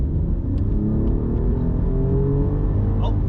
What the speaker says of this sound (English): I'm gonna step on the gas and see what that feels like